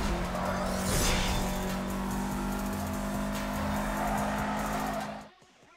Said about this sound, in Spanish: Gira hacia la izquierda para tomar una curva derrapando